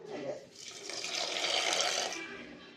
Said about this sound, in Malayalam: ഇതിലേക്ക് ആവശ്യത്തിന് വെള്ളം കൂടി ഒഴിച്ചു കൊടുത്ത് വേവിച്ചെടുക്കണം